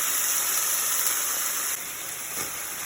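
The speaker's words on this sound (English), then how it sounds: "gonna get a little sizzle going." Sweet and sour sauce poured onto roasted tofu in a hot pan sizzles with a bright, steady hiss, close and loud at first, then easing slightly.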